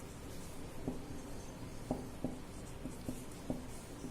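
Someone writes out an electronic configuration by hand: faint, quiet scratching strokes, tapping on in short separate marks over soft room hiss.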